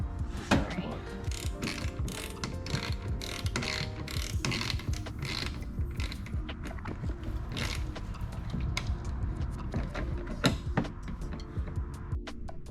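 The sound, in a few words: ratchet wrench tightening car diffuser bolts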